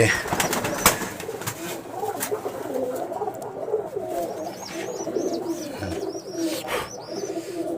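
Pigeons coo repeatedly in soft, rolling calls, with a few higher chirps from other birds and a faint voice in the background.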